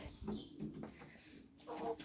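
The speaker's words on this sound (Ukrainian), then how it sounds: "Курочки поки сидять тут." Faint, soft clucking and low cooing from hens sitting in their run, a few murmured calls over quiet background.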